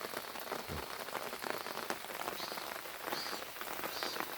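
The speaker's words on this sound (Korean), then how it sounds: "이렇게 비가 오니까 이것도 오이가 잘 자라고 있죠" Rain falling steadily on a vegetable garden with climbing cucumber vines: a dense, even hiss of drops hitting leaves and soil, close and continuous throughout, with no voices.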